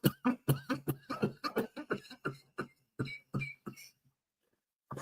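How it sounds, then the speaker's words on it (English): A person coughs repeatedly in a close, rapid series of short bursts, bunched together and then trailing off into silence. "Just coughing a little bit."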